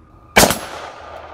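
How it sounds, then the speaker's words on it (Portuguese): A shotgun blast fired at a door: a single sharp, loud bang with a sudden onset and a brief ringing decay, heard alone with no talking. "O pai deu um tiro contra a porta."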